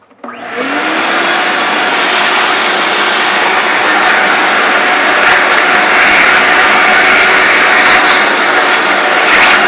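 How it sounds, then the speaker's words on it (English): A vacuum cleaner roars loudly and steadily after a short start-up, running close by while it sucks debris out of a BMW M5 interior during an aftermarket sound system install. "Vacuum this up real quick."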